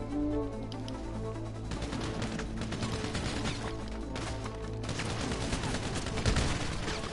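Gunfire rattles through a GTA 5 Online session in dense, continuous bursts of rapid shots and crashes, with no talk over it.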